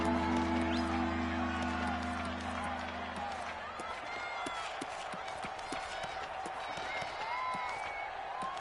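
Stadium crowd noise in a football video game, a steady broad roar of cheering and applause holding for several seconds, with a low hum dropping away partway through.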